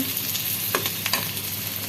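Onions and green chillies browning in hot oil for a boal fish curry give a steady close sizzle with a couple of sharp spatula scrapes, no voices.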